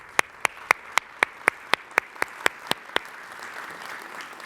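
Applause at a fellows investiture luncheon, starting as about a dozen sharp, evenly spaced claps from one nearby person, then settling into a soft spread of clapping from the room.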